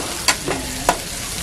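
Fish pieces frying in oil until golden brown for a banana-leaf fish pollichathu, a steady close sizzle with a few sharp stirring scrapes spaced through it, no talking.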